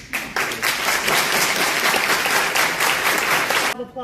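An audience at a public meeting bursts into applause, with many hands clapping loudly and steadily for several seconds before the sound cuts off abruptly.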